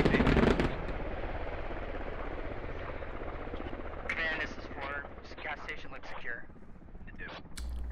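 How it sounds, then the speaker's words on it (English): A military helicopter in the Squad video game thumps steadily in the background while bursts of gunfire crack around it and players' voices chatter over the top. "Oh, helicopter coming back again."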